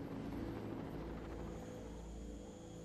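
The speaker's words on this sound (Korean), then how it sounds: "헬기가 이륙했습니다." Steady whirring drone of a helicopter engine and rotor as it takes off, constant and moderately loud throughout, with no speech.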